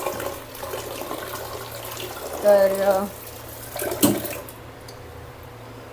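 Water pouring into a pot of wheat, a gushing, tap-like flow that swells briefly in the middle before tapering off, with a person speaking over it.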